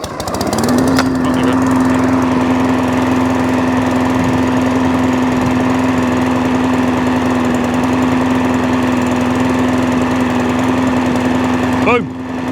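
A small petrol engine, freshly primed and fitted with a new spark plug, starts and holds a loud, steady buzzing run like a lawn mower, then cuts off near the end.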